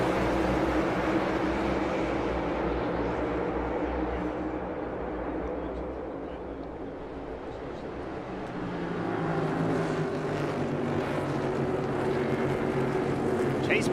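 NASCAR race cars accelerating at the green flag at Road America make a loud, continuous engine roar that swells, dips slightly and builds again, with crowd-like background noise.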